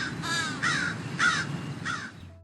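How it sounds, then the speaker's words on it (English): A crow caws four times in a steady, evenly spaced series, loud and close, with nothing else heard. "Crows also speak with a high-pitched caw"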